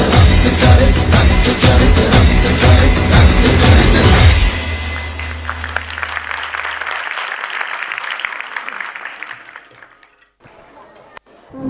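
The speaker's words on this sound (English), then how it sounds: "I request the audience to give them a big round of applause." An audience applauds a grade IV primary school performance, loud clapping mixed with the tail of music that cuts off partway, then the applause thins and fades into quieter room sound.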